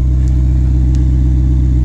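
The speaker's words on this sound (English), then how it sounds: "this car really sounds amazing with this dual exhaust" A Ferrari Portofino with dual exhaust idles and revs, a loud, close, steady deep engine rumble with a throbbing pulse that holds throughout.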